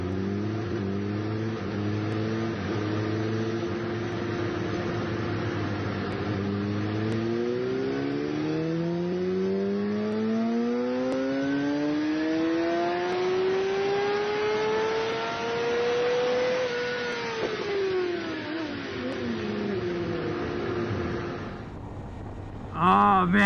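A tuned motorcycle runs on a dyno, its engine climbing in one long rising wail to a high rev before dropping abruptly, loud and close throughout.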